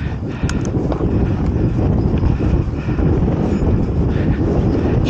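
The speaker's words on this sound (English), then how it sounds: "Strong wind." Strong wind outdoors buffets the microphone, a constant loud low roar and rumble with gusty surges across several seconds, no other sound standing out.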